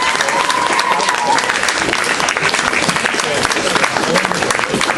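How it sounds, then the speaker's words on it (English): Loud, sustained audience applause for the performers at a WA poetry slam heat, a dense wash of clapping from a crowd with some cheering, steady for the whole stretch. "Massive round of applause, please, for all 20 people that performed tonight."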